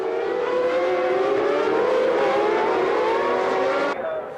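Formula 1 race cars at the 1997 Canadian Grand Prix start, a loud, sustained, high-pitched engine whine that climbs steadily in pitch for about four seconds and then cuts off abruptly.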